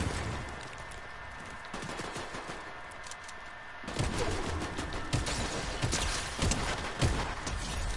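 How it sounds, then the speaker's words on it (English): Rapid shotgun blasts from the video game Fortnite, mixed with repeated gunfire bursts and impacts in a busy fight, loud and irregular, growing denser halfway through. "I like this shotgun."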